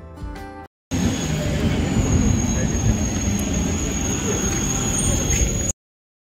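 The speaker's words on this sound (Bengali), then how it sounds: "আমাদের ট্রেন চলে এসছে।" A train pulls into a station on the way to Joychandi hill, giving a steady, loud broadband rumble with a faint high whine that starts after a short gap and runs for about five seconds before cutting off.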